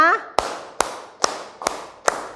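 An audience claps together in a counted rhythm, five sharp unified claps evenly spaced, ringing slightly in a room, following a brief voice at the start.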